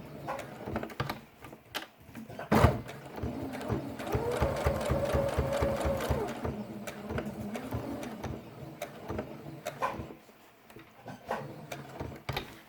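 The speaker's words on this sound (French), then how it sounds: "Et on va coudre au point droit" Sewing machine running a straight stitch through felt, close and quiet, in short bursts of rapid rhythmic needle clatter with pauses and handling clicks between them.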